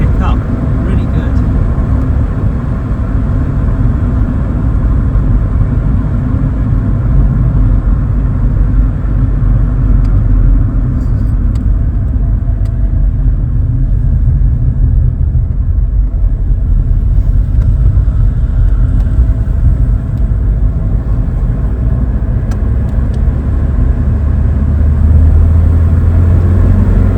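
Inside a moving Chevrolet Cavalier, the engine pulls from about 2,000 RPM onward, heard as a continuous, loud, low cabin rumble with road noise that holds steady throughout.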